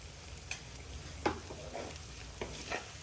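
Spicy poppy seed curry (Maharashtrian khas khas bhaji) sautéed in a pan, with soft scraping stirs and light sizzling at a low level, a few sharper spatula strokes standing out, no voices.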